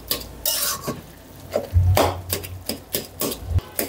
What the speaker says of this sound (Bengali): আমি একটু ভালো করে নেড়ে নেড়ে ঘেটে ঘেটে দেওয়ার মতো করে দিচ্ছি।